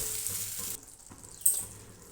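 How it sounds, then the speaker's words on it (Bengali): Potatoes fry in oil in a pan, a soft continuous sizzle with faint stirring scrapes and a brief sharper hiss partway through, with no talking. "একটু ভেজে নেব।"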